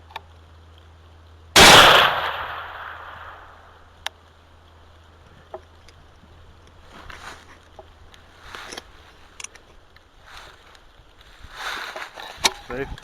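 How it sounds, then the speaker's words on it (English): A single loud, sharp gunshot finishes a wounded hog during a hog hunt, close and abrupt, followed by quiet rustling and some faint talk. "You want me to shoot it?"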